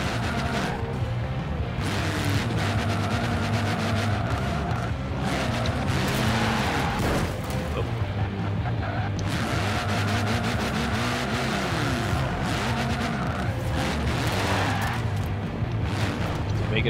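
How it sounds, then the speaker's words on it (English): Drag-tuned 1974 Toyota Corolla in the racing game Forza Horizon 4 doing burnouts, its engine revving hard and continuously in loud surging waves with a tire-squeal hiss, while a voice talks underneath. "Let's do some burnouts, keep these tires really hot."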